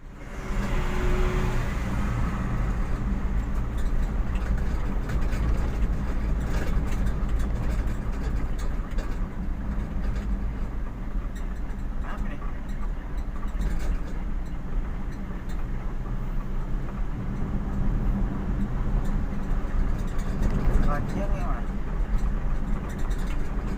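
Steady low engine rumble of congested road traffic in a long jam in Pekanbaru near road repair works, constant and close, with a voice talking over it.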